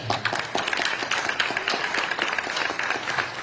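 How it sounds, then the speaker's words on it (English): Audience applause at the close of an Alabama attorney general Republican debate, a dense steady patter of many hands clapping together from start to finish. "Let's give them another big round of applause"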